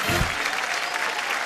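Studio audience on a Hindi TV game show breaking into a short, dense burst of applause that fills the room, loud and continuous.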